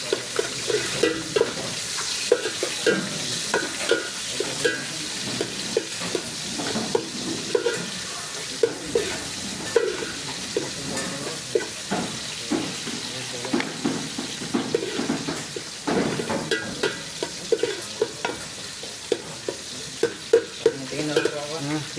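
Ginger stir-frying in a hot pan, a steady loud sizzle with a spatula scraping and stirring throughout, a voice occasionally speaking over the cooking.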